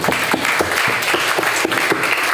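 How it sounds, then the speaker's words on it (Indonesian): Students at a motivational seminar for santri clap for a young speaker, a loud close group applause with a few strong, roughly rhythmic clap bursts standing out from the wash. "Tepuk tangan buat abang kita yang sudah bicara"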